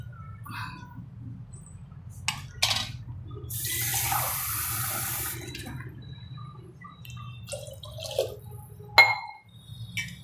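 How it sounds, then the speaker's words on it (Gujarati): Water is poured into a pan of vegetables, paneer and rice for corn paneer rice: one splashing pour of about two seconds, close and fairly quiet, with a few small clinks of glass and utensils around it. "હવે એમાં આપણે દોઢ ગ્લાસ પાણી નાખીશું"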